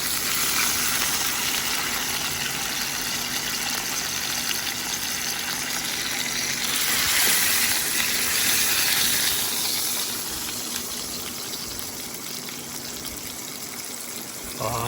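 A sous vide steak sears hard in a hot pan, a loud steady sizzle and hiss running throughout, easing slightly toward the end, with no talk over it.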